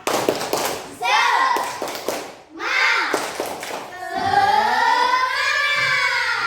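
Children in a classroom do a rhythmic spirit clap: sharp, close claps in quick patterned bursts, mixed with loud chanting children's voices that rise into a sustained shout toward the end.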